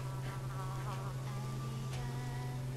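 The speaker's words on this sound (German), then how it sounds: "Eine Biene! Oh, Alter, ich hasse dieses Geräusch! Ja, erinnert mich sofort an die echten Bienen." A bee in the video game Minetest gives off a steady, close insect buzz, a droning hum with a low fixed tone and fluttering overtones that holds without pause for under three seconds, with no talking.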